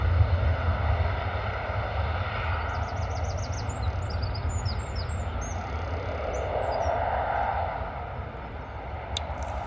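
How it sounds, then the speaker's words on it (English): easyJet Airbus A320, about sixteen years old, departing Bristol Airport in a crosswind, a steady distant jet engine roar that swells slightly and then fades, with faint birdsong chirping above it. "A320 we're looking at now, heading out to Alicante."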